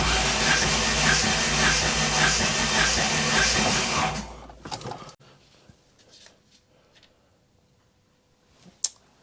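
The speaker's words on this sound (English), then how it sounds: "crank the engine over at least 5 or 6 times" Engine cranking over during a compression test with the accelerator held open, a steady rhythmic churning for about four seconds that stops abruptly, followed by faint clicks and quiet.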